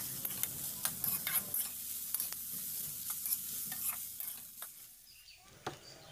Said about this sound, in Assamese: এতিয়া এইখিনি ধুনীয়াকৈ এনেকৈ কিছু সময় লৰাই পেলাই গোটেইখিনি মিক্স কৰি ল'ম